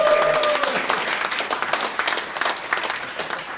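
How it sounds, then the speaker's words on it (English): Lively round of applause from a conference audience, dense clapping continuing for several seconds at close range, with a few voices mingled in. "Let's just give Dave a round of applause."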